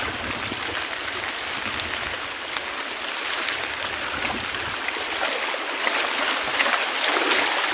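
A river stream flows and splashes in a steady, fairly loud broadband wash, constant from start to finish with no voices over it.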